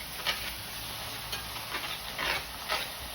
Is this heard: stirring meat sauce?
yes